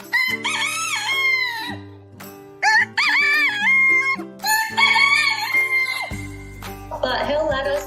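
A rescue rooster named Bert crows loudly and close by, several long harmonic cock-a-doodle-doo calls in a row with brief gaps, and a steady low hum sits underneath.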